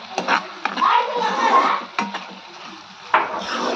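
A spoon scrapes and knocks around a pan of lady finger and tomato curry in uneven strokes, with sharp metallic clinks between softer sizzling stirs.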